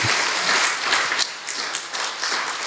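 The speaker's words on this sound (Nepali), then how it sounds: "ताली बजाएर प्रभुलाई धन्यवाद देऊ न." Congregation clapping in a church service, a dense wash of steady applause that dips briefly midway and then continues, with no voices.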